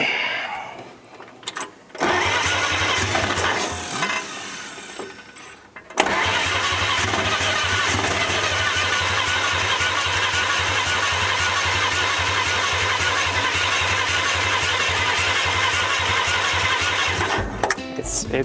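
A 1947 International KB3 truck engine catches after a few faltering attempts, then settles into a loud, steady run for over ten seconds, a low rumble close by that carries on to the end.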